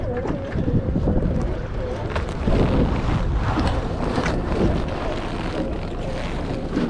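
Outboard motor idling on a small crabbing boat off Westport, Washington, a low steady rumble buried under gusting wind noise and water sloshing against the hull.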